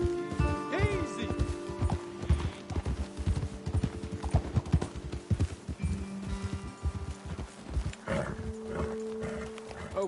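Horses' hooves clip-clop in a steady walking rhythm on a trail in Red Dead Redemption 2, close and moderately loud, with tonal game sounds and brief voices layered over the hoofbeats.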